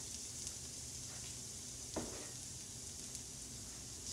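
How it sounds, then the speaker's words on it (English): Chopped vegetables sauté in about two tablespoons of oil in a pan, a steady soft sizzle close by with one faint clink partway through. "in the pan, you put about 2 tablespoons of oil. And you'll saute them until they're soft"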